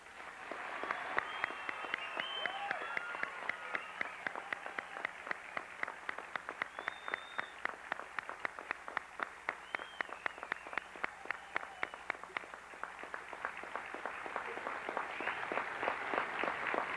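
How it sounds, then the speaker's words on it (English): A graduation audience applauds the class of 1990 at Western Reserve Academy, a steady roar of many hands clapping that swells and holds throughout with no voices over it. "Would you join me in a round of applause for this fine class?"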